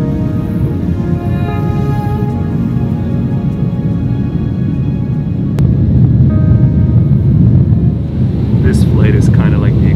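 Steady, loud engine drone fills the cabin of a short passenger flight in Panama. It holds constant throughout, swells slightly partway through, and faint voices can be heard beneath it.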